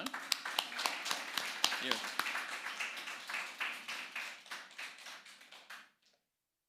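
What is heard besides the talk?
applause for Sean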